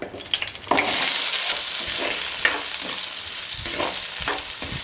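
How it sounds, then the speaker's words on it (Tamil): Onions sauté in oil in a clay pot: after a few soft clatters, a loud hissing sizzle bursts in and continues steadily up close, with occasional stirring scrapes. "வெங்காயம் கொஞ்சம் நேரம் வதங்கட்டும்"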